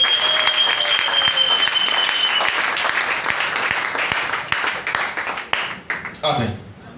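A church congregation applauds for the Lord in a steady burst of clapping that fills the room, holding strong for several seconds before thinning out toward the end.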